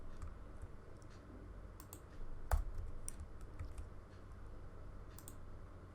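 Typing on a computer keyboard while building an HTML form, with quiet irregular key clicks scattered over a low background hum and one sharper tap near the middle.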